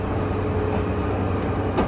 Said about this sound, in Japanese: 列車はここの駅に到着するわね。